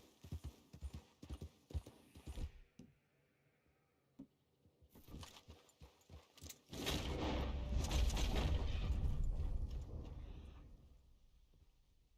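Horse hooves clip-clopping in a quick uneven rhythm in Red Dead Redemption 2, then a loud rumbling burst of noise takes over before fading.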